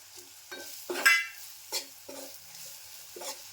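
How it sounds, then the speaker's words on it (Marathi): Green chillies drop into a frying Malvani-style prawn masala, giving a few short bursts of sizzle and stirring scrapes in a quiet kitchen, with a louder hiss near the start. "आता मी या मिरच्या टाकते हिरव्या मिरच्या"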